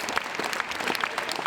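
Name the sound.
long applause after Personal Shopper screening at Cannes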